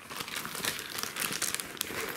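Crinkling of a silica gel packet handled while unpacking a parcel holding headphones, a tripod and an HDD dock; a steady close plastic rustle with small sharp crackles throughout, no talking.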